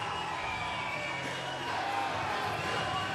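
Crowd at an XFC 55 mixed martial arts event cheering and roaring loudly and continuously, with whoops and shouts swelling as the noise rises.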